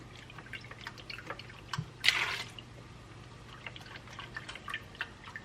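Four cups of broth poured into a slow cooker while making chili mac and cheese: a brief liquid splash and gush around the middle, with light drips and small clinks before and after, at close range.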